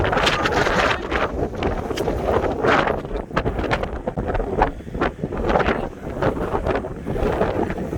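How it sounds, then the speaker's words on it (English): Strong wind roars in heavy, buffeting gusts that batter the microphone continuously, with no voices. "It is ever windy out here right now."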